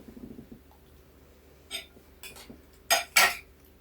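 A spoon stirs coconut-milk food in a pot, giving a few scattered metallic clinks and scrapes that build to two louder knocks near the end over quiet background, close by, with nobody talking.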